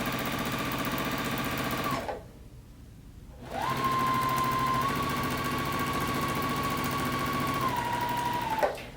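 A JUKI sewing machine stitches a decorative pillow's border seam, running steadily and loud with a brief pause near the start before the motor whirs on again evenly to the end.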